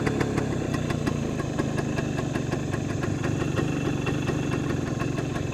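A 1975 Suzuki RV-90 motorcycle engine idles close by, a steady, even hum with a regular ticking pulse running throughout and no voices.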